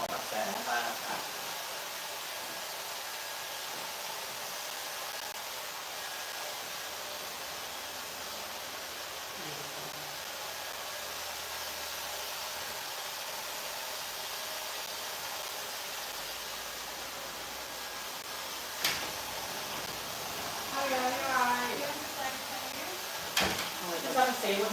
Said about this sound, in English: There's a lot of static noise in the background. It's the hair dryer.